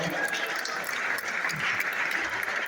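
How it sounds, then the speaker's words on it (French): Continuous clapping from a crowd at an anniversary cocktail party, steady and moderately loud throughout. "On peut applaudir les Sœurs de la Providence également"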